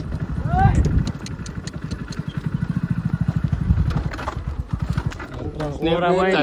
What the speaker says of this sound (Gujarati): ઘોડો